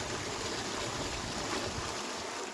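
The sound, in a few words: strong flowing water at Andaman beach resort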